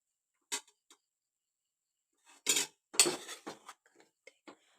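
Sharp metallic clanks and clatters of a pressure cooker lid being opened after cooking biryani, in short separated bursts with quiet gaps between them.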